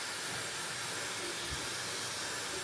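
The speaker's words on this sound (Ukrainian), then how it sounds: "Тому я одразу їх просушую феном." A steady, faint hiss of blowing air runs throughout, like a hair dryer on a constant setting.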